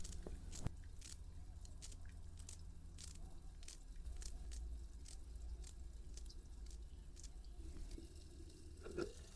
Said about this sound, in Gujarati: ઘડીક રહીને જોવી ત્યાં સુધીમાં આપણે કોથમરી કાપી નાખવી.